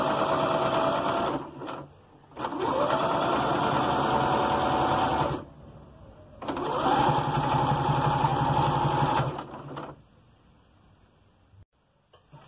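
A sewing machine stitches a zipper panel for a handbag in two long, steady whirring runs separated by a brief pause, close and fairly loud, fading to quiet at the end.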